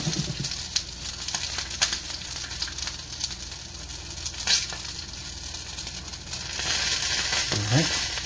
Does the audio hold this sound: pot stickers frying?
yes